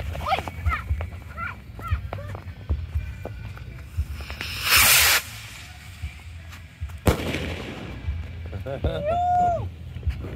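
Fireworks are lit and set off by a group on a trip to Rawa Island in Malaysia, giving a sharp fizzing hiss, a loud crack and a whistling burst, with voices around them.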